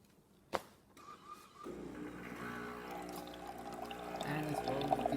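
Jura Impressa coffee machine dispensing hot water during a tune-up test: a click, then the pump whirs up and a steady stream pours, rising gradually in level.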